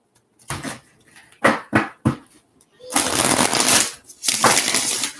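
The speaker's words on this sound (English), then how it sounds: "or should I just start flipping cards?" Tarot cards are shuffled and flipped, with a few sharp separate snaps and slaps followed by longer bursts of riffling, close to the microphone.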